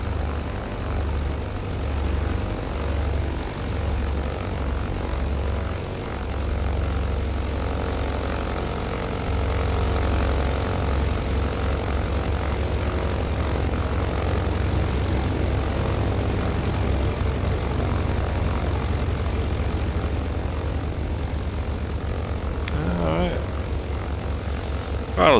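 The propeller engines of a BN2 Islander run steadily, heard from inside the cabin. A loud, continuous droning hum holds for the whole stretch, with a brief change in tone near the end.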